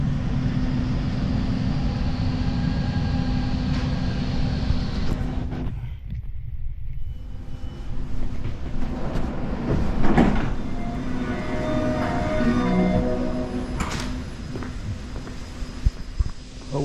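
A Montreal REM train riding the new Two Mountains line toward Roxboro-Pierrefonds, with a continuous close rumble and hum, a brief hush midway, then renewed running noise with sliding-door sounds and faint chimes.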